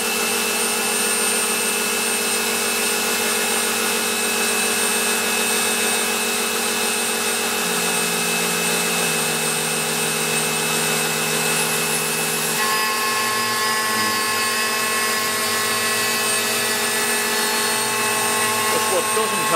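Kress spindle milling on a Tormach PCNC 1100 CNC mill with no coolant, a loud steady high-pitched whine with tonal shifts as the cut changes and cuttings catch under the tool, with someone speaking over it.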